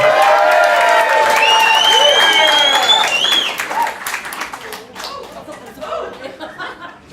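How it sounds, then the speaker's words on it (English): A comedy-club crowd at a hotel comedy final applauds and whoops as the next comedian comes to the stage. Cheers ring out over the clapping at first, then the clapping thins and fades. "Let's keep a round of applause up. Let's make some noise for the next comedian to the stage"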